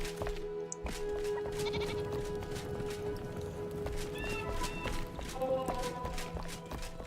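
Sheep bleat in the survival game Enshrouded, a few short wavering calls rising over a constant low rumble of game ambience, moderately close and without speech.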